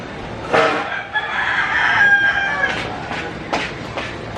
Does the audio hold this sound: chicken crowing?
yes